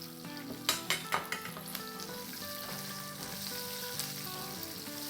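Lengthwise-sliced bell pepper sautés in a hot pan for an okra sabzi, giving a steady, close sizzle with a quick run of sharp stirring clinks early on.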